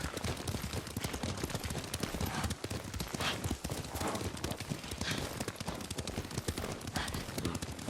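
Horse hooves clip-clop steadily at a brisk riding pace in the Ghost of Tsushima video game, a continuous rapid rhythm for several seconds under faint background sound.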